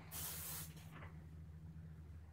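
John Frieda Luxurious Volume hairspray sprayed into upside-down hair, a loud close hissing burst of about half a second, a short weaker puff right after, then low background hum.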